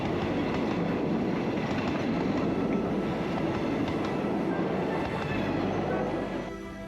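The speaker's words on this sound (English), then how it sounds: "The train passing through full of passengers heading out of the city." A passenger train rumbles past close by in Bangkok, a loud continuous roar of wheels and carriages on the rails that fades slightly as it moves away at the end.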